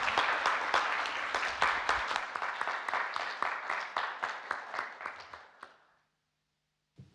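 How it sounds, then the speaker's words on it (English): Audience at a book launch applauds its guests, dense clapping at first that thins into fewer, separate claps and dies away into silence, with one last faint sound at the very end. "please greet our guests with a warm round of applause"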